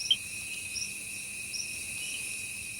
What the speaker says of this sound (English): the sound of thousands of insects chirping, frogs croaking and birds calling can be heard everywhere